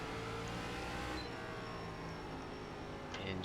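ARCA race car engine in iRacing at Langley, a steady engine drone held throughout, fairly faint, with a few brief higher tones near the end.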